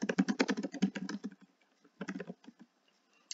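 Keys clatter on a computer keyboard in a quick, close run of typing that slows, pauses, and then resumes with a few shorter bursts of taps, fairly quiet overall.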